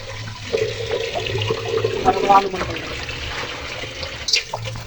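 Water splashes and pours while beef feet are washed by hand in a basin, close and fairly loud with bursts of sloshing and dripping, with a voice faintly in the background.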